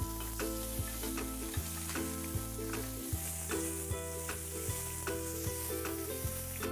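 Mahimahi fillet sizzles in a hot pan just after being flipped, a continuous crackling fry heard beneath prominent background music with stepping bass notes.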